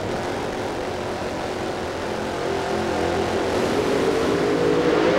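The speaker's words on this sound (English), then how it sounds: "Clean start for both cars." NHRA sportsman drag racing cars launch off the start line at Indianapolis, a loud continuous engine roar building steadily with a rising whine toward the end, no voices.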